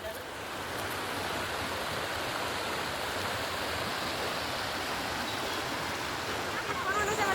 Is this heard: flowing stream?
yes